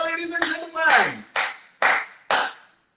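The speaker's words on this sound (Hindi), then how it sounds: "जोरदार तालियों से स्वागत भाई।" A short burst of speech gives way to four separate, sharp claps spaced roughly half a second apart, each fading quickly, as an audience welcomes actor Pearl V Puri during a candid radio conversation with RJ Rocky.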